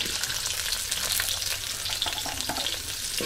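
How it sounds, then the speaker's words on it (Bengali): Potatoes seasoned with salt and turmeric powder fry in a pan, a dense, continuous close-up sizzle with scattered pops and crackles, no voices. "নুন হলুদ দিয়ে আলুটাকেও ভেজে নেবো ভালো করে।"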